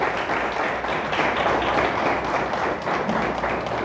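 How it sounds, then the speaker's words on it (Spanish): A church congregation applauds together, a dense, sustained wash of many hands clapping at an even level throughout. "Ponle fuerte el aplauso a Dios."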